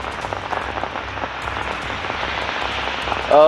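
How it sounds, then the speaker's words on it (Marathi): Heavy rain pouring down in the Malabar Hill area of Mumbai at the start of a downpour, a dense, steady hiss of drops hitting surfaces throughout, with a louder swell right at the end. "आता पावसाने दमदार सुरुवात अशी या ठिकाणी केली आहे"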